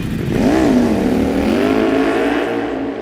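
A Ducati Panigale V4 S superbike on a race track screams close by, its engine note rising sharply, dipping, then climbing again in a loud, continuous pass.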